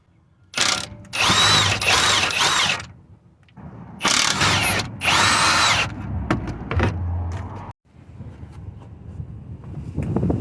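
Lower control arm bolts, 22mm, being removed on a 2004–2006 Toyota Sienna, Camry or Avalon: loud bursts of a power tool buzzing for a second or two at a time, separated by pauses, with fainter mechanical clicks and handling noise between.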